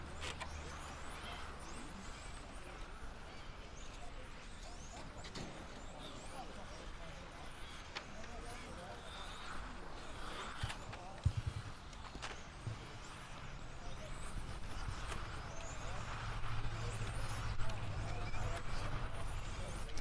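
Electric on-road RC cars race in a qualifying heat at the Australian championships, a steady high-pitched whine of motors filling the track, fairly distant and continuous with a slight swell toward the end under a race commentator's voice.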